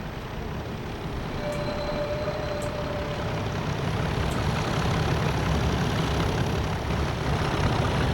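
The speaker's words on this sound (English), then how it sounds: "Oh, nice noisy diesel." A diesel train engine idles in the Train Simulator 2020 game as a steady, noisy drone at a constant level, alone without talk.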